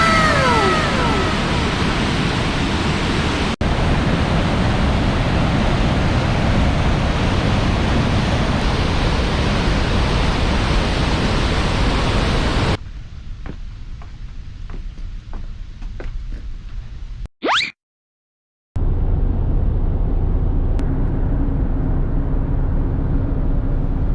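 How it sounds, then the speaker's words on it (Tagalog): Roaring waterfall along a mountain parkway, a loud steady broadband rush heard close for several seconds, then cutting to quieter ambience with faint clicks before the rushing water returns. "And yet another falls. Can you hear it?"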